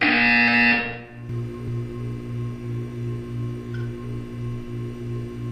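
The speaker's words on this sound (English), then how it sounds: "You will hear a buzzer." A loud electronic buzzer tone in Portal 2 VR sounds for about a second, then cuts off, leaving a steady pulsing low hum.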